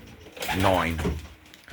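A single soft, low coo from a racing pigeon in its loft, one short throaty phrase rising and falling in a quiet space.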